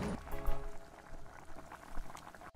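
Chicken broth bubbling and simmering in a pan with chicken pieces for curry, soft irregular pops and gurgles close by.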